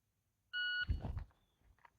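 A shot timer gives one sharp electronic beep to start a one-handed concealed carry draw drill, followed at once by a brief rustle and thump of the draw, all close and fairly quiet with no talk.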